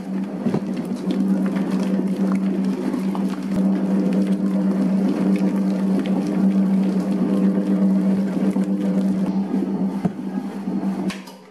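A mixer machine kneading bread dough for burger buns, a steady low motor drone and rumble that continues evenly throughout with faint rattling.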